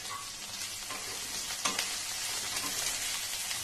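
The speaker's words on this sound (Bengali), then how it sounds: "কপিটা ভাজার সময় একটু নুন দিয়ে দিচ্ছি এর ভেতর, দিয়ে তারপর এগুলো ভাজবো।" Cauliflower pieces fry with salt in a pan, a close, continuous bright sizzle with a light stir or scrape partway through.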